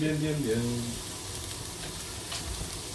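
Red bell pepper sizzles and fries in a pan for a sausage and merguez jambalaya, a steady close hiss with brief stirring, while a voice is heard faintly at the start.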